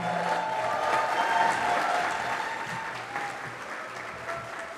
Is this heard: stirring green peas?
no